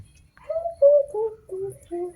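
Pigeons of the red Sirazi Lahori and Yellow King breeds cooing, a short series of four or five soft, descending coos close by, with a faint low rumble underneath.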